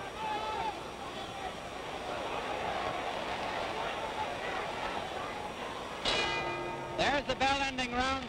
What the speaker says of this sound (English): There's the bell ending round 3.